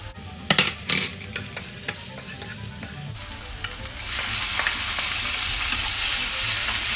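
Mushrooms sizzling in butter in a pan for a mushroom risotto, a few sharp clatters of stirring at first, then a loud steady frying hiss that builds and holds.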